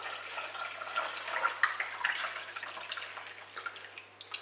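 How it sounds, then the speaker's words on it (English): Brewed coffee is poured from a pot into a larger pot while preparing a glucomannan diet drink, a soft trickling, splashing stream with drips that runs continuously and fairly quietly. "So the next step is to pour that coffee into the pot."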